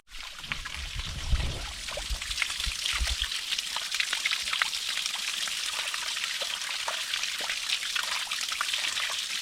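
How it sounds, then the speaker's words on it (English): A small forest stream trickles and patters steadily at close range, a continuous bright watery babble with a brief low rumble early on and no voices. "Or maybe a little stream, I wouldn't say so much a creek."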